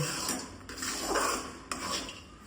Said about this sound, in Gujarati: આપણે સિંગના દાણા અંદર એડ કરી દેવાના છે આ રીતે ને બધું બરાબર મિક્સ કરી લેવાનું છે